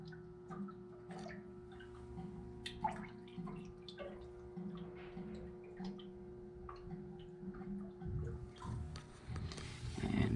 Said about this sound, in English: She's still gurgling.